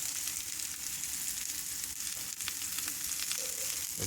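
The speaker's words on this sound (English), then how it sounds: "So we got the celery there. These are going to have to fry up a little bit too." Celery and onion fry in a pan for an Acadian-style beef fricassee, giving a steady, close, unbroken sizzle and crackle with no talking.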